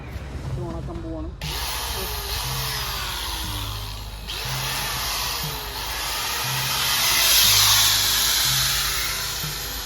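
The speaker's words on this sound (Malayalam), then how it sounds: "നമ്മൾ കണ്ട് മെഷീൻ എടുത്തിട്ടുണ്ട്. ഓണാക്കാൻ പോവാണ്." A power cutting machine starts up with a sharp onset and then whines steadily, a high-pitched motor hiss that swells slightly toward the end, with a low rhythmic thumping underneath.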